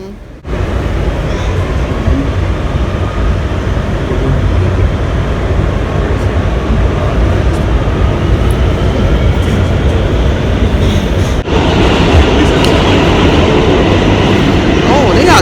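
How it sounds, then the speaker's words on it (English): A Manhattan-bound A local subway train in New York rumbles steadily along the tracks, a dense continuous roar inside the car, with a brief dip partway through. "This is a Manhattan-bound A local train."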